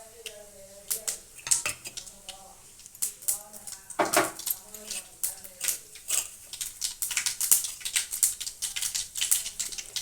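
Mustard seeds and cumin pop and crackle in hot oil in a kadai, scattered sharp ticks and spits growing denser over time, with clinks of utensils and a voice speaking intermittently.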